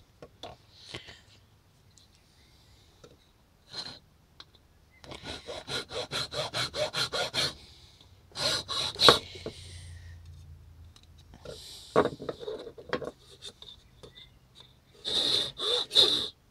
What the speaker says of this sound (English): I wanna try it with the file, cause that's how I did the first one.